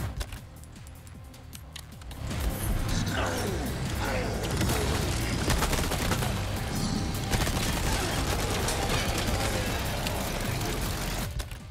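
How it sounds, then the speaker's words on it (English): Dense, continuous gunfire and crashing impacts from a Resident Evil 4 Remake Mercenaries match with Krauser swell after a quieter opening and stay loud to the end, with a voice talking over parts of it. "Where is he shooting from?"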